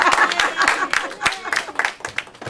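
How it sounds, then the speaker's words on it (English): A crowd claps in a short round of applause, sharp overlapping hand claps close by and fairly loud, with voices murmuring underneath. "Give a round of applause."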